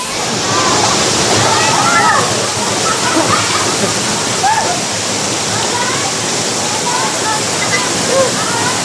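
Nonok Falls, a waterfall in Quezon, roars as a dense, constant rush of falling water that stays close and loud throughout, with faint splashes scattered through it.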